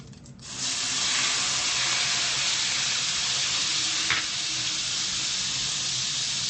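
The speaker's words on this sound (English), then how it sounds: "I'm gonna add the wine to this pan." Wine poured into a hot pan bursts into a loud, steady hiss of sizzling that starts abruptly and holds strong, close by, with no one speaking.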